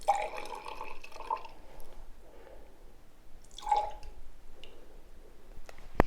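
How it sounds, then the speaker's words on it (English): Champagne poured into two flutes, soft fizzing splashes in short bursts with quiet gaps between, faint and close, with a brief voice in the background. "now we're going to divide this into 2 champagne flutes"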